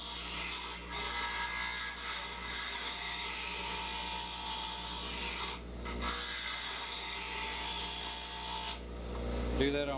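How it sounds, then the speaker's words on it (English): Continuous harsh grinding on a metal gunsmithing part, a loud abrasive rasp that holds steady for about ten seconds with only brief dips in intensity. "As I start grinding on this, it's going to be pretty noisy"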